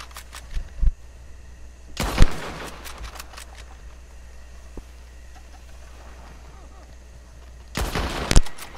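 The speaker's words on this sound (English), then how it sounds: "every shot has been spot on" Gunfire in Red Dead Redemption 2 rings out in two loud bursts of rapid shots several seconds apart, with a few fainter isolated cracks and pops scattered between them.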